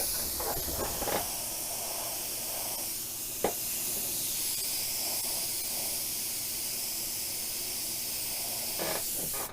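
UV varnish sealer sprayed from an aerosol can over a very small painting of Tokyo, a steady close hiss lasting nearly the whole stretch, with a couple of brief clicks.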